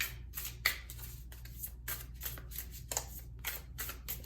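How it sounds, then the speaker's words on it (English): Tarot cards are shuffled by hand in a quick series of soft riffling bursts, close and fairly quiet. "a lot of people like the shuffling"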